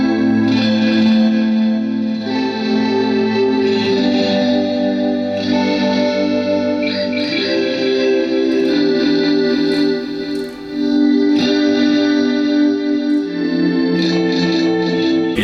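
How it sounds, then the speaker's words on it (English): A Digitech XP300 Space Station guitar effects pedal plays a sustained string-swell patch with chorus, thick shimmering chords rising and shifting in steady layers over about fifteen seconds, with no voice. "Number 4 is a string swell with chorus."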